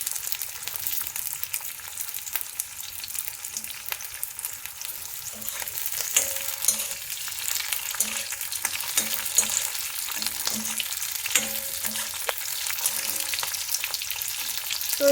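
Paneer cubes roast in a hot pan, giving a steady, close sizzle and crackle of frying that runs throughout with light scraping and stirring, no voices.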